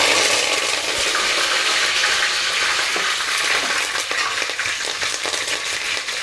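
Loud, steady crackling sizzle of mustard seeds, fenugreek, cumin, curry leaves and dried red chillies frying in hot oil, dense and continuous with small pops throughout; no voices.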